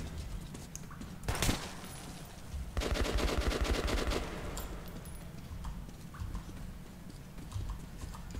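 Gunfire in Metro 2033 Redux, heard as a short burst of shots near the start and then a longer run of rapid automatic fire in the middle, loud and close, with a quieter steady background after it.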